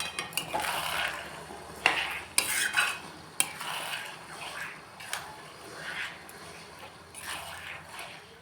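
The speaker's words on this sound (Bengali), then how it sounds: "কিমাটা খানিকটা ভাজা হোক" Minced mutton keema frying in a pan while being stirred, a continuous sizzle broken by repeated scraping strokes and sharp clinks of a spoon against the metal.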